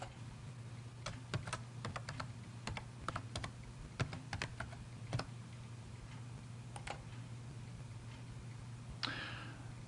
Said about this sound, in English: To log in, you type in your NaviCloud user ID and password.